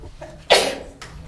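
A single sharp sneeze bursts out midway, brief and fairly close, against a quiet room background.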